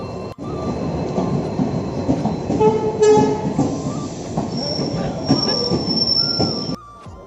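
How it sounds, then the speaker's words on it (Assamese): A passenger train rolls into a station with loud rumbling wheels, sharp metallic brake squeals and a long high-pitched screech, growing near and continuous before the noise drops off at the end. "ট্ৰেইনৰ মাত শুনিছোঁ"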